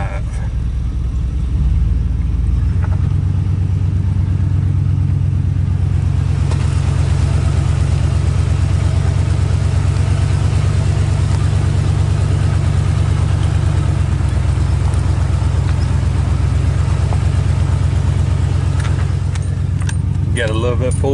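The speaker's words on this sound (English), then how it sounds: "I guess we're gonna put old girl in four-wheel drive." An old truck engine rumbles at a steady idle after being shifted into four-wheel drive high, loud and close from inside the cab, with keys jangling and a voice heard at times.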